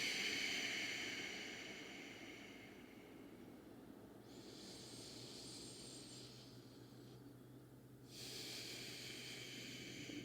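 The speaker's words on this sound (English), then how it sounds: "Take a long breath in and a long breath out." A long, airy breath in and out during a yoga power flow, heard as a steady soft hiss that swells and fades over several seconds.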